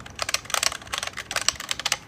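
Rapid typing on a Signo Pegasu KB-739 semi-mechanical keyboard, close and crisp with quick bursts of clacky keystrokes in an uneven rhythm, no talking.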